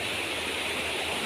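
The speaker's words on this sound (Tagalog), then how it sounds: "mas lumaki po ang tubig ngayon." Floodwater from a swollen river rushes past in a steady, loud, broadband roar, continuous and close with no pauses or voices.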